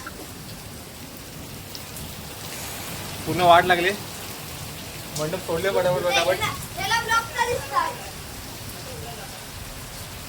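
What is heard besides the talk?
heavy unseasonal rain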